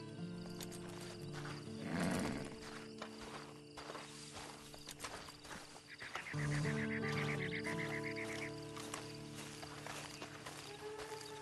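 A horse in the video game Red Dead Online on Xbox One X, heard as faint hoof clip-clop and a short whinny-like call amid quiet, continuous in-game ambience.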